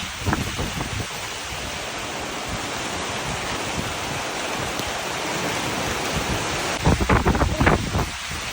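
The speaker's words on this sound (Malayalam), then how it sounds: "നല്ല തണുത്ത കാറ്റാണ് വീശുന്നത്." Steady, broad wind noise rushes continuously, with a few louder gusts buffeting the microphone near the end.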